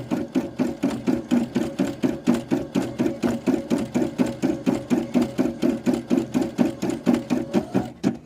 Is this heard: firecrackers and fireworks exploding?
no